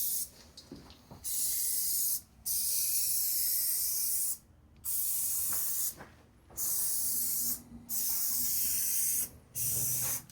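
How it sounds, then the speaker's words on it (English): Fly bait sprayed from a pump bottle around the inside of a window, six or seven bursts of loud hissing spray, each lasting about a second or more with short pauses between. "Just spray around the inside of your window with this fly bait."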